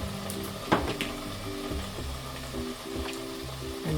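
Tomato puree is stirred in a frying pan with a steady sizzle underneath, accompanied by a sharp tap of a utensil and soft, repeated scraping strokes.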